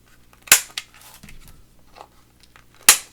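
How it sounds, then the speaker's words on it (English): A corner rounder punch clipping the corners of a journaling card, two sharp, loud snapping clicks about two seconds apart, close up with faint handling noises between them. "So I'll just take my corner rounder and round them off."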